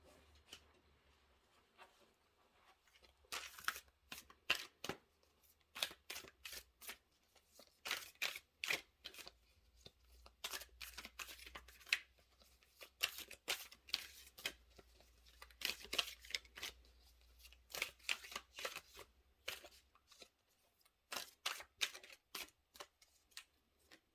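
Tarot cards are repeatedly shuffled and drawn, giving bursts of crisp riffling, flicking and slapping that come in uneven clusters over a low steady hum, close and fairly quiet, with no talking.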